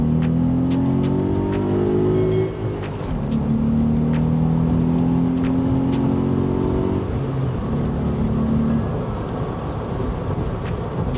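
A VW Up GTI accelerates hard along a straight road, its small engine and exhaust droning and rising in pitch through the gears, with a brief dip at a gearchange before climbing again, loud and close throughout.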